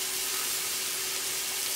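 Mushrooms sizzle in a pan on medium heat, a steady bright crackling hiss that holds evenly throughout with no talking.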